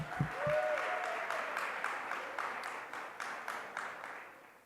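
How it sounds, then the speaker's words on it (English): A round of applause at the GMHC 2024 gala, honoring a man who has fought HIV and AIDS for 43 years, rising into steady broadband clapping from a large seated audience that slowly thins toward the end. "let's give him another round of applause"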